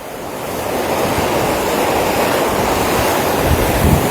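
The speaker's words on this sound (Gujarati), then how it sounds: "હાલમાં તાપી નદીનો નજારો જોશો તો તાપી નદી બંને કાંઠે છલોછલ ભરાઈ ચૂકી છે, બંને કાંઠે વહી રહી છે।" A flooded Tapi river running full between both banks, heard as a loud, continuous broadband rush of water with wind noise buffeting the microphone and no voices.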